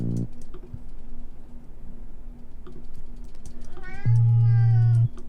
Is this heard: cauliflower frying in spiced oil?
no